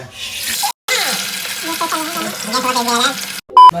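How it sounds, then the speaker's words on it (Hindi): Hot oil sizzling and crackling close by as spices hit the pan, with a person talking over it and a short break in the sound. "ये देखो, ये छौंका जा रहा है।"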